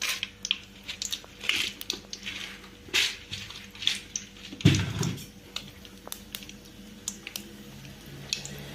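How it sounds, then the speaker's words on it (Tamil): Mustard seeds spluttering and popping in hot oil while lemon rice is prepared, a scattered run of sharp crackles and sizzling pops close by, with one louder burst midway and no talking. "கொஞ்சமாக தேவைக்கான அளவு கடுகு போட்டுட்டோம். அது நல்லா பொரியுது."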